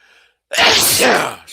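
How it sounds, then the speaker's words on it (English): One loud, close sneeze bursts out after a brief faint sound, sharp at the onset and then trailing into a breathy release. "I should have put myself on mute when I was going to sneeze."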